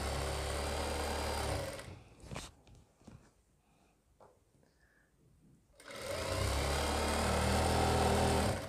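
A sewing machine runs fast on the belt seam of a churidar pajama, buzzing steadily for about two seconds, falling quiet with a few small clicks, then running again to the end.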